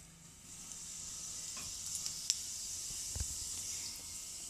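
Cumin seeds crackle and sizzle in hot oil in a kadhai, a steady faint hiss with a few soft pops and one sharp crack, no voices.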